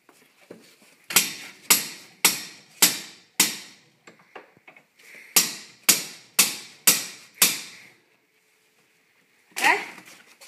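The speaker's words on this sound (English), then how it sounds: "so you got to use a mallet to do so" Mallet hammering metal to bend a hook blade, two runs of five sharp evenly spaced strikes separated by a pause, close and loud, with one more hit at the end.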